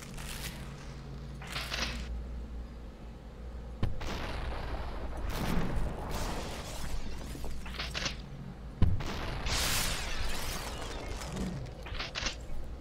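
Shotgun blasts in the video game SuperHot, several heavy booming shots spaced a few seconds apart over a low game-music bed, each followed by a brief noisy tail.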